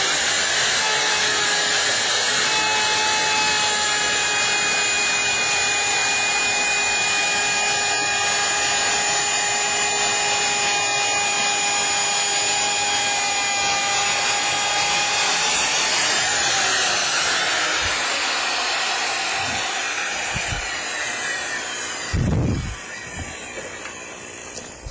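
A Shopsmith SS108 overarm router cuts wood in a workshop with a loud, high whining motor and a rough cutting rasp that holds steadily, then spins down and fades, followed by a few scattered knocks and thumps.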